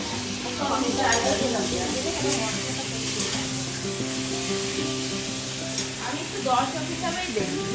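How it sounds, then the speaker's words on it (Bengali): Potatoes fry in a pan on a home stove, giving a continuous close sizzle with intermittent scraping stirs, while a steady tonal hum runs underneath. "না আলু ভাজা চলছে"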